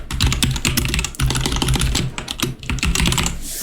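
Rapid, continuous clatter of fingers typing on a noisy computer keyboard, dense keystrokes close-up with a couple of brief pauses, no voices.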